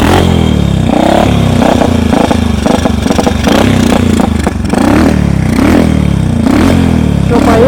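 A homemade snowmobile on a homemade track runs loud and close, its engine revving in a continuous, uneven chugging drone with rattling clatter. The carburetor may be partly clogged with debris.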